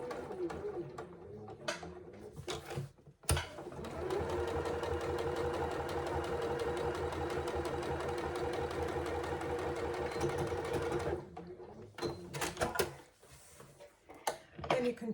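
A sewing machine stitches a zip pouch along its bottom edge in a fast, even mechanical whir for several seconds, close by. Short bursts of handling noise and brief stops come before and after the run.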